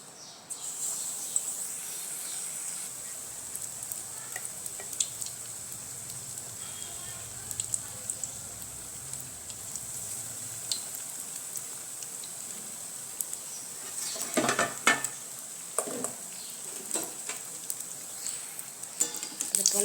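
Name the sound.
bread pakoda in gram flour batter frying in oil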